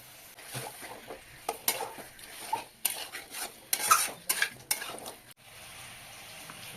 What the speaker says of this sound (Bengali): লবণটা দিয়ে কিছুক্ষণ নেড়ে নেব